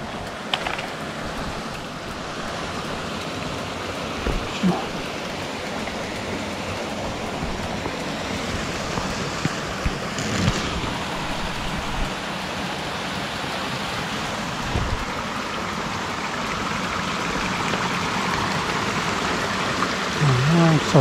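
A mountain stream flows steadily near a wooden boardwalk on a forest trail at Alishan, Chiayi, a constant broadband rush lasting throughout, with occasional faint voices and footsteps over it.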